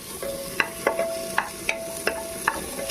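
Ginger garlic paste being stirred in a hot frying pan, with a spatula scraping in a steady rhythm of sharp close strokes over a constant sizzle.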